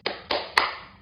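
Three sharp claps from a group of children at a kindergarten worship gathering, spaced evenly about a quarter second apart, fairly close and bright, with no talk over them.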